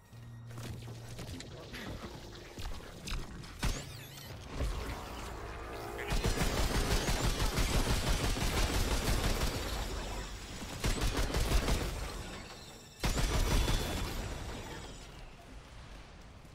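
Regular gun fired in the video game Remnant II, with bursts of loud, dense rapid gunfire packed close together, quieter scattered shots before them, and talk in places.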